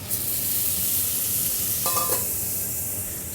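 Steak cooks in hot peanut oil in a pan, a steady close sizzle and crackle filling the moment, with a brief metallic scrape near the middle.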